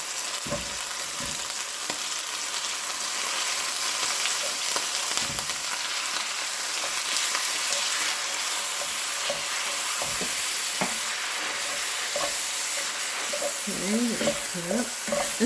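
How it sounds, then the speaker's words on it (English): Ground turkey sizzles steadily in a skillet over medium heat, with a constant close frying hiss and occasional scrapes and stirs of a utensil against the pan. "we're going to cook the ground turkey until it's brown"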